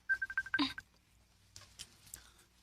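A telephone rings in a Cebuano radio drama: a quick run of bright electronic tone pulses, close and fairly loud, then fading to near silence with faint sounds after.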